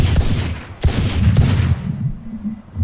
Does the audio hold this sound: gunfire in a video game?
yes